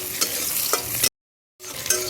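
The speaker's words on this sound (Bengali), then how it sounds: "দিয়ে মশলাটাকে একটু হালকা করে ভেজে নেব।" Masala spice paste frying lightly in a pan for a shrimp and water lily dish, a steady hiss with stirring scrapes, cut by a brief silent gap before the sizzle resumes.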